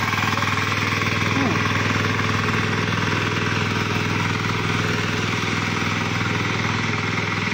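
A 10 hp mini power tiller ploughing wet mud in a field, its engine chugging steadily and loudly throughout, with someone talking over the continuous running.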